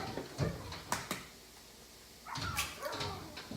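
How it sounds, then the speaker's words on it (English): Dogs barking and yelping at a distance, muffled as if from outdoors, in a few short bursts separated by a quiet pause. "You guys might be able to hear my dogs screaming outside the window here."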